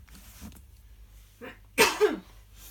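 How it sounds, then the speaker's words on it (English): A burst of sharp coughing, two loud harsh coughs in quick succession after a brief softer breath, close to the microphone. "I really should have got all this coughing out before I started."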